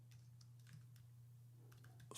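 Soft, close keystrokes on a computer keyboard as search keywords are entered, a quick irregular patter of light clicks over a low steady electrical hum.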